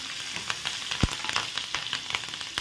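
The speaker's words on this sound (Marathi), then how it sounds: "चांगला खरपूस होईपर्यंत हा मसाला आपल्याला शिजवून घ्यायचा आहे" Masala of green chilli and curry leaves frying in a hot pan for poha chivda, a steady crackling sizzle with sharp pops and spatters throughout, close and fairly loud.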